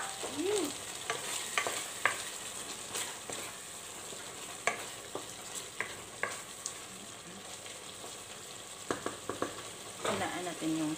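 Sardines frying in a pan, a steady broadband sizzle with repeated sharp clinks and scrapes of a utensil stirring, fairly close, no talking.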